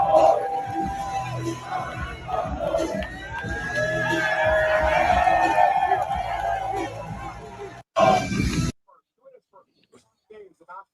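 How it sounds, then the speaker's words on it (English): A live wrestling crowd chants "Tony Fumble" at Ricky Saints, a dense roaring din of many voices held steadily for several seconds, cutting out abruptly, then a short burst before near silence. "Here is some more Tony Fumble chants at fucking Ricky Saints live from the crowd."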